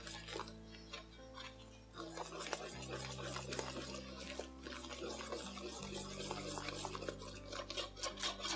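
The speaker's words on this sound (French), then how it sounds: "On mélange." Vegan hazelnut muffin batter with baking powder is stirred, with soft clicking taps and scrapes of the utensil against the bowl under background music.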